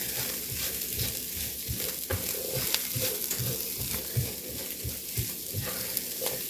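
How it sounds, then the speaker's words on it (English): Vegetables frying in a pan are stirred with steady scraping and a constant sizzle, the spoon strokes coming in an irregular rhythm close by, with no talking. "Let's stir this around a little bit."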